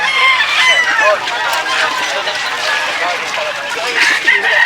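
Bantam roosters crow loudly and close at a market selling animals, the calls overlapping with a steady background of chatter and other fowl.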